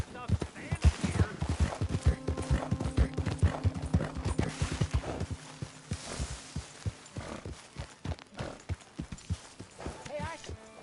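Horse hooves clip-clop in Red Dead Redemption 2, a steady run of hoof strikes under game voices and background music.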